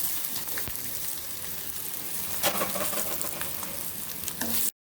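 Mustard seeds, urad dal and asafoetida sizzle steadily in hot oil for a Tamil buttermilk curry, a dense, even crackle with a few sharper pops, close and continuous before cutting off abruptly at the end.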